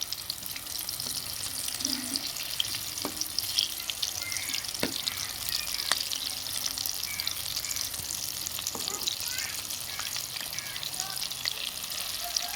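Chili bajji frying in hot oil as the battered peppers are turned to cook the second side: a steady, dense sizzle runs throughout, with a few sharp clicks and taps from the utensil.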